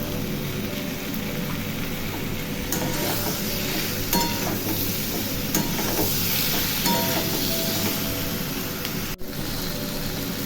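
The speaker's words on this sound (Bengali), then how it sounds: "জিরে আর তেজপাতা ফোড়ন দিয়েছি দেখতে থাকুন আর দিয়ে দেবো লঙ্কা আর টমাটম কুচি কাঁচা লঙ্কা" Green chili and chopped tomato frying in a cumin and bay leaf tempering for a festive Bengali dish, giving a steady, loud, close sizzle and hiss throughout with a few faint clinks of stirring.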